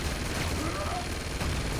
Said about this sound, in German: Aber unser Leute schießen schon.